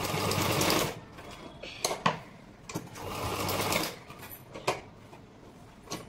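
A sewing machine stitches tucks on a blouse in quick bursts of close, loud mechanical whirring broken by short pauses and clicks, with no talk.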